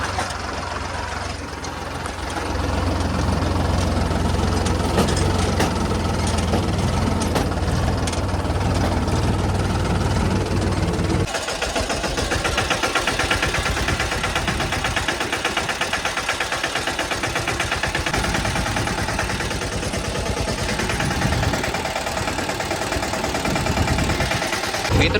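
A tractor engine idles steadily and close by throughout, a continuous low mechanical drone whose tone shifts slightly partway through, with no talk over it.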